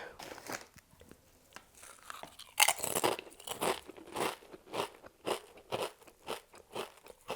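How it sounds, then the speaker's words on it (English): Thick, hard original-flavor potato chips crunched and chewed right at the mouth, a long run of loud crackling bites and chomps with a steady chewing rhythm and no talking. "I feel that this brand tends to have chips that are a little bit perhaps thicker and just harder to chew"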